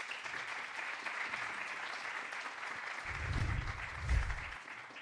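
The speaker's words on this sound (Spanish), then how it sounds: "Un aplauso, por favor." An audience applauds after a speaker is introduced at a master's thesis presentation, moderately loud clapping that carries through and swells briefly before fading.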